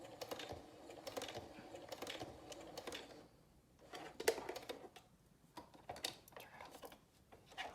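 A sewing machine stitches through a fabric face mask in faint bursts of rapid clicking, stopping and starting between short runs.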